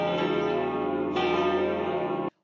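Church bells ring out steadily at the opening of a Hungarian Culture Day celebration in Zenta, a dense, sustained metallic peal with layered overtones that stops abruptly.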